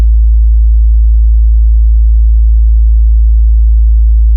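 A pure low sub-bass sine tone hums steadily and loudly, unbroken from start to finish with nothing else present.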